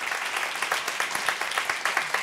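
A live audience applauds a discussion panel, a dense patter of many hands clapping at moderate volume for a couple of seconds.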